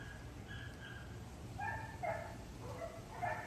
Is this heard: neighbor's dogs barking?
yes